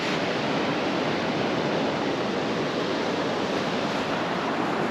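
Ocean surf rolls in at Huntington Beach State Park in Murrells Inlet, South Carolina, a continuous broadband wash of breaking waves with no pauses or talk.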